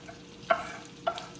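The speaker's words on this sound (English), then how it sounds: "So we got our fish cooking." Blackened fish sizzles in a pan of oil and butter, with two short stirring or pressing bursts of frying noise in a brief, quiet moment.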